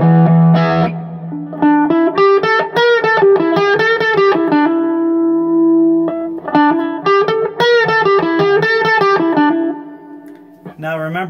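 Electric guitar played through a Boss Katana 50 amp on its Brit setting with hall reverb, two loud phrases of distorted chords and sustained notes with a held note between them, ringing reverb tails, and no talking.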